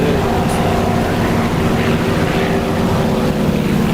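Aircraft engine in the DCS combat flight game, heard as a loud, steady droning hum with tonal engine bands that runs without a break through the whole stretch, no clear drop-off to silence.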